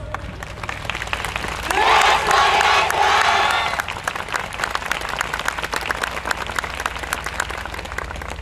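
An audience at the 2022 YOSAKOI Soran festival night show claps steadily in time, then erupts in a loud burst of cheering and shouting for about two seconds before settling back into rhythmic clapping.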